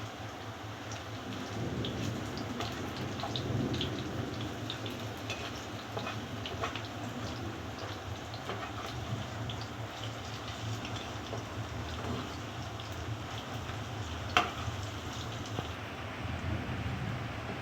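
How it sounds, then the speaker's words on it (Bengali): Pointed gourd (potol) koftas frying in hot oil, a steady rain-like sizzle that runs unbroken throughout, with occasional faint clinks and stirring noises; no talking. "কোপ্তাগুলো ভাজা চলছে।"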